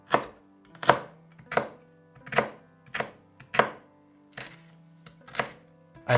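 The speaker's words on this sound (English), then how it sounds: "Cut it into strips, then bite-sized pieces." Knife cutting crispy pork belly (siu yuk) into bite-sized pieces on a board, about nine crisp crunching chops at a steady, slightly uneven pace, close and clear with no speech.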